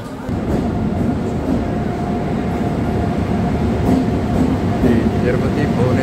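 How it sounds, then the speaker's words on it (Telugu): A train pulls in at platform 4 of a station on the Bhubaneswar–Tirupati route, its steady broad rumble of rolling wagons filling the scene with faint squeals and a hum, continuous and fairly loud throughout. "ఇక మన ట్రైన్ వస్తుంది"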